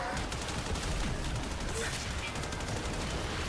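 Continuous rapid automatic fire from the Soma assault rifle in the sci-fi shooter Warframe, a dense, unbroken rattling barrage that stays loud and steady throughout, with no talking over it.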